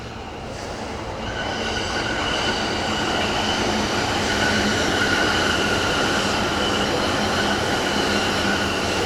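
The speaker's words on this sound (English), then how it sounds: "See, trains, now there's a sound." A train passing by in Japan, a steady close rumble of wheels on rails that swells gradually louder, with high squealing tones running over the roar and no talking.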